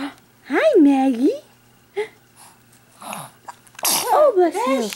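A sharp sneeze bursts out loudly at close range amid a home scene, with people talking and cooing around it before and after.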